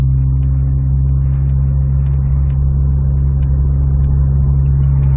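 A Volkswagen Golf with a Stage 2 tune drives along, its engine a loud, steady low rumble and road drone heard close up and unbroken throughout, with no talking.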